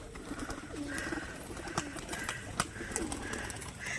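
Pigeons in a loft cooing in soft, repeated low calls against a steady background hum, with a few sharp clicks and rustles nearby.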